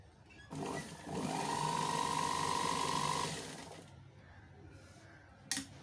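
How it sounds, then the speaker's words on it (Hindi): Sewing machine stitching a ladies shirt front-neck design, a steady close whirring run of about three seconds that winds down, then quiet with a short click. "हम यहाँ पर इसकी सिलाई लगाते जाएं।"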